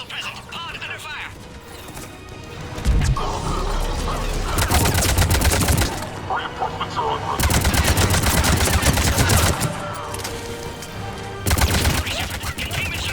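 In Mass Effect 3, rapid automatic gunfire hammers an escape pod in dense, loud bursts separated by short lulls, with voices talking over the shooting.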